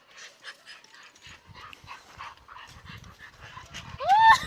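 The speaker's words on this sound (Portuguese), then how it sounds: "Puxa o cachorro, Nida." A guide dog pants and breathes in quick rhythmic puffs close by, ending with a louder high whine or yelp.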